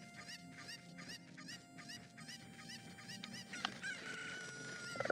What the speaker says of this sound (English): Cuckoo, chicken, what's the difference?